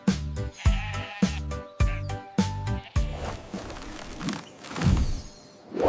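Sheep bleats in an animated nursery rhyme, sounding as a run of short, evenly spaced harmonic 'baa' calls set to music, followed by denser, blurrier sound toward the end.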